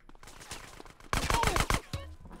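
Explosive-bullet gunfire in Grand Theft Auto San Andreas with a chaos mod, a quick cluster of loud, close blasts following a quieter stretch of game sound, then a short low rumble as it fades.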